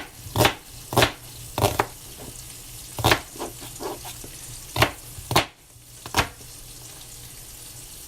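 Sliced onions drop into a hot pan for a vegan brown stew, giving a series of sharp sizzling bursts and clattering tosses, close and loud, with a steady frying hiss underneath.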